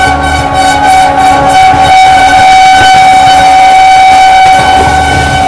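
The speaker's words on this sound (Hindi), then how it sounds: "जोरदार हॉकिंग के साथ कमबैक करते हुए अपनी शताब्दी एक्सप्रेस" Shatabdi Express train blasts its horn loudly and continuously during a parallel overtake of the Kalinga Utkal Express, a steady harmonic tone held close over rolling rail noise.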